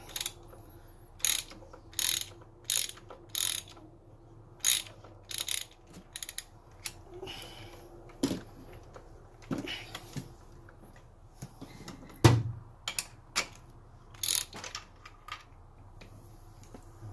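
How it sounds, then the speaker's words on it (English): A ratchet works loose a spark plug on a 2014 Toyota Tacoma V6 in rapid clicking bursts, each a tight run of pawl clicks, repeated over and over at close range with brief pauses between and no talking. "Let's try with the ratchet."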